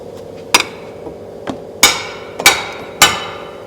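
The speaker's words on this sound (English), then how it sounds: "Get a hammer, hammer it down." Hammer blows on the front lower control arm of a 2010 Ford Escape, a handful of sharp, ringing metal strikes at uneven intervals, loud and close, with a couple of lighter taps between them.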